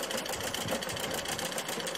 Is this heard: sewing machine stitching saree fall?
yes